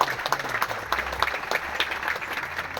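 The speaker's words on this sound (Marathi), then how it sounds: "एकदा जोरदार टाळ्या तुमच्या सगळ्यांसाठी पुन्हा एकदा" A crowd at an agricultural products testimonial event breaks into hearty applause, many hands clapping in a thick, steady patter with a low murmur underneath.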